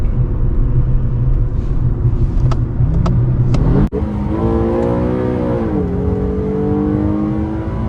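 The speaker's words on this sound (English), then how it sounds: "He gonna hear this car take off" A modified Infiniti G37 accelerates hard away, its loud engine climbing in pitch through a gear change with a brief dip before pulling again, close and dominant with no speech.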